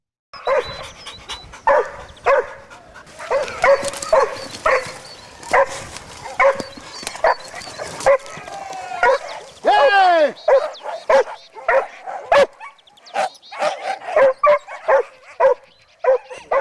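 A hunting dog scents a wild boar among huge snow-felled trees and bays loudly and close in repeated bursts of barks, yips and whimpers, with brief pauses between volleys.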